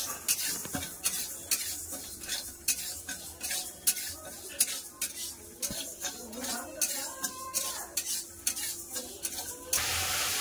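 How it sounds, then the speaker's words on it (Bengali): Moong dal being dry-roasted in a pan until reddish, with stirring and clinking of utensils against the pan, a soft ongoing sizzle and scraping sounds, and brief faint voice in the background. "মুগের ডালটা একটু লাল লাল করে ভেজে নেবো।"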